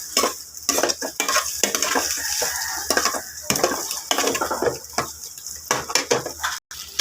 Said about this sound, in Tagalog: Igisa natin yung karni. Para mabango sa sibuyas at bawang.